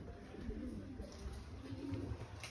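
Racing pigeons coo softly in a small loft aviary in a low, murmuring rhythm, with faint background noise and no talking.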